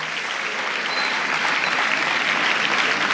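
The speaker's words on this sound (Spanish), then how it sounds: "vamos a dar un aplauso a todos los que se esforzaron mucho por llegar" Dense, steady applause from a large audience at a church gathering, with continuous clapping that swells slightly and no talk over it.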